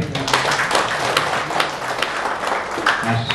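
Audience applause at a book launch in Nepal, a dense wash of clapping filling the room steadily from start to finish with no pauses, loud and close.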